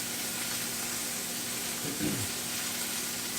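Deer steaks and onions frying in a pan, giving a steady, even sizzle throughout with a brief soft clatter midway as the food is moved.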